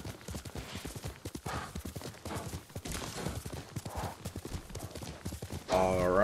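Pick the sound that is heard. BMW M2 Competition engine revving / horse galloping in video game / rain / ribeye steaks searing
horse galloping in video game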